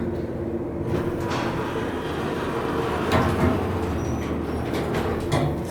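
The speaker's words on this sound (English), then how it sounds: "Let's listen to this epic motor." A late-1970s Dover traditional hydraulic elevator motor hums steadily and fairly loudly during a ride up, a continuous low drone with faint clicks and knocks on top and no talking.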